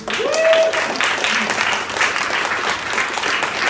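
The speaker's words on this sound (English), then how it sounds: "Let's give a big round of applause to our speakers." An audience at a tech meetup bursts into applause for the speakers, a dense burst of clapping that holds steady and then gradually thins, mixed with a few voices and cheers from the crowd.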